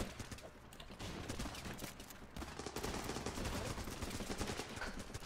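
M16 rifle gunfire in the combat game Running With Rifles, a dense, steady rattle of rapid automatic shots mixed with distant battlefield fire that runs the whole way through at a fairly even level.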